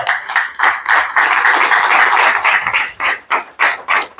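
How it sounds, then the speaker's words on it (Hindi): An audience at a direct-selling business seminar applauds, with dense clapping that builds, holds, then thins into a few separate rhythmic claps. "तालियां बजा सकते हैं आप।"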